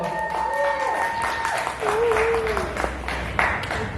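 Applause for the performer CocoaWeaponry at the Temple of Passions show at Ingenuity Fest, a steady wash of clapping from a crowd lasting the whole stretch, with a voice talking over it and a sung tone sliding through.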